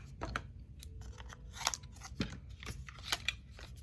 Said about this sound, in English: I better cut that off